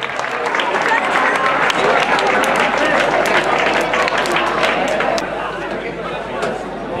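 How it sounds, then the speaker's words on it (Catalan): Crowd applause at a cycling race prize ceremony during a town festival trophy event, dense steady clapping with chatter mixed in, loud and sustained before easing slightly near the end. "Aplaudim"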